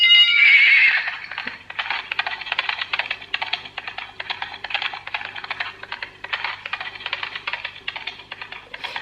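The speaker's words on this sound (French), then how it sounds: "ça fait le bruit du cheval et ça je sais qu'il va adorer" A plush toy pony bought as a Christmas gift for a boy lets out a loud electronic horse whinny at the start, followed by a steady run of quick clip-clop hoofbeats for several seconds.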